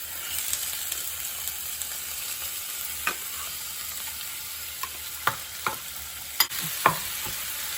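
Corned beef sizzles steadily in a pan for a baked macaroni schotel, broken up with a utensil that lands several sharp scraping clinks near the end, close and with no talking.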